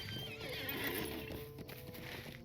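A horse whinnies loudly over the clatter of hooves in Lord of the Rings Online, with a faint voice in the background, sounding like game audio.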